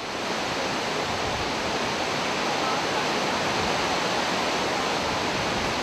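A waterfall below the Aktru glaciers in the Altai mountains, fed by glacier meltwater, roars as a steady, loud, dense wash of falling water that stays even and unbroken throughout, with no voices over it.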